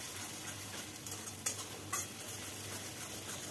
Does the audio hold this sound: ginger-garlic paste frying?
yes